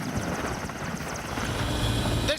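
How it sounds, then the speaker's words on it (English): A Soviet-era helicopter about 30 years old, flown by Ukrainian pilots in wartime, thunders close by with a continuous dense rotor roar and chop throughout. "This Soviet-era helicopter is about 30 years old"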